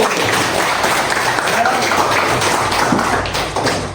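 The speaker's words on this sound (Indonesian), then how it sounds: "Oke, tepuk tangan dulu." Students in an Islamic jurisprudence class clap their hands together in a steady, moderately loud patter of applause lasting a few seconds, with faint voices mixed in.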